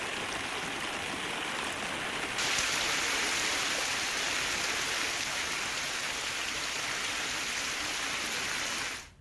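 A heavy downpour falls over villages in Banaskantha, Gujarat, as an even, dense hiss of rain that grows slightly louder early on and then cuts off abruptly at the end, with no talking.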